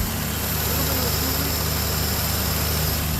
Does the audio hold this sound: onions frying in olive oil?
no